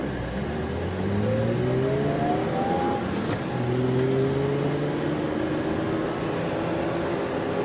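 A few cars in light Kalamazoo city street traffic drone and rev steadily, engine pitch rising and falling as they accelerate nearby, loud and continuous with no talk.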